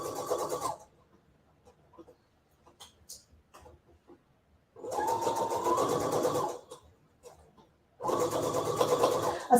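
A sewing machine runs in three steady bursts of rapid stitching, loud and close, separated by quiet pauses with small clicks and fabric handling.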